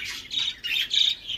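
A roughly month-old Australian budgerigar chick on a bird farm gives four close, shrill squawks in quick succession.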